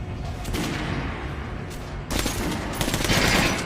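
Rapid automatic gunfire in the video game Metro Last Light is aimed at a training dummy. Dense bursts of shots crackle in quick succession with a brief pause near the middle, loud and continuous throughout.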